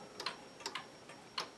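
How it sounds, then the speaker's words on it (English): An old wall clock's swinging pendulum ticks at a steady, moderate pace with soft, close clicks, three to four beats alone over a quiet room. "That's the pendulum that swings."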